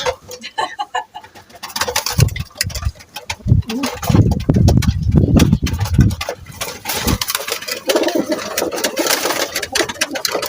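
Feather-footed pigeons cooing in low, throaty bursts that repeat over several seconds, fairly close, against a steady background clatter.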